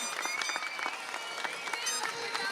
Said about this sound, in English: he deserves a round of applause for showing up every day this year and working hard